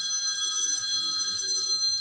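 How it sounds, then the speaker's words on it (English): A telephone rings with a continuous bright, bell-like electronic trill that holds steadily at moderate volume throughout, with no one talking over it. "that phone's going to go off."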